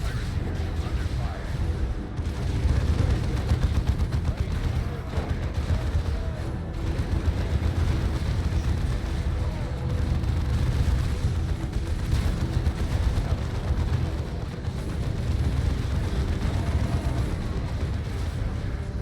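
In the Dawn of War 2 battle, grenade launcher blasts thud and rumble beneath steady small-arms fire, a dense, continuous roar of explosions and shooting at close range with no pause.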